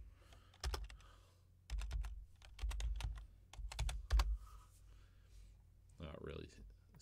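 A computer keyboard clicks in short bursts of rapid keystrokes as a username and password are entered while installing Jellyfin, close and crisp between pauses, with a little background noise.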